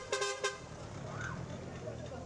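A garbage truck horn in Libreville, Gabon gives two short toots close by, followed by ongoing street traffic noise, with voices audible in the background.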